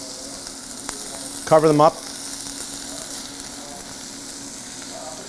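Onions sizzle and fry in a pan of melted butter for a burger, a steady crackling hiss running throughout with a brief louder burst as someone speaks in the middle.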